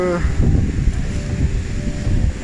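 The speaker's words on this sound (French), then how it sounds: "ça caille bien, il y a du vent, il pleut à fond" Cold winter wind gusts on a rainy mountain hike beside a swollen river, a rough blustery rush buffeting the microphone in steady bursts.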